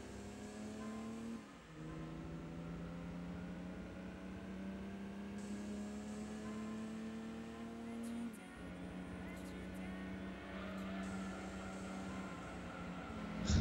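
A car engine in the racing game Gran Turismo 2 holds a steady droning whine, briefly dipping as it shifts gear around the two- and eight-second marks before climbing again.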